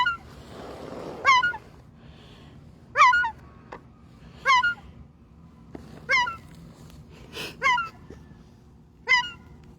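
A seagull standing in a yard gives a series of sharp, nasal honking calls, about six evenly spaced bursts, fairly close over a low rumbling outdoor background.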